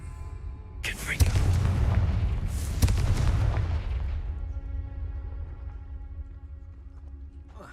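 Fiery Confringo blasting-spell explosions from Hogwarts Legacy burst in a couple of loud, sharp booms close together, followed by a long rumbling decay that slowly fades.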